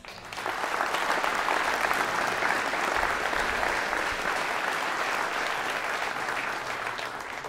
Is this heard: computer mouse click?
no